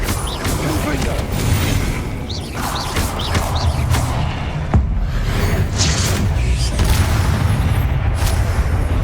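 A Confringo blasting spell goes off in Hogwarts Legacy: loud booming blasts and sharp cracks ring out over a dense, rumbling game soundscape.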